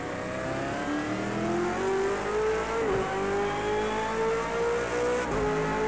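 A V8 Supercar engine in Project CARS 2 at COTA climbs in pitch under acceleration, drops sharply at a gearshift near the middle, then builds again, loud and continuous with no talking.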